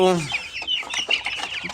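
Chickens clucking close by in quick, busy bursts, with one rising call at the start and chattering chicks overlapping throughout.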